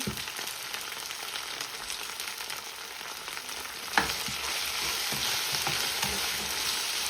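Onions sautéing with salt in a pan for garlic chutney give a steady close sizzle and crackle throughout, with a brief stir or scrape near the middle and no talking.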